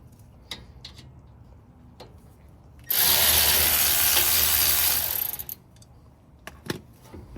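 On a Ford F-150 front brake job, a power tool whirs loudly for about two seconds as bolts come out, framed by scattered metallic clicks and taps of tools and parts before and after.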